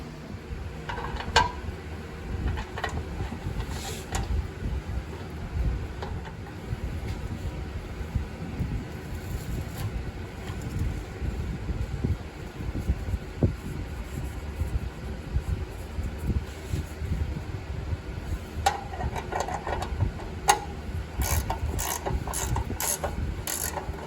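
Ratchet tightening the oil drain plug on a 1992 Jeep Wrangler YJ with a 4.0 engine, heard as repeated clicking bursts of pawl ratcheting over a steady low background hum, with no talk.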